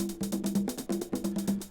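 A sample played through Ableton Live's Simpler instrument with randomized panning repeats as a steady run of short, bright, plucky hits with a tonal body, about seven even pulses, alone and clear.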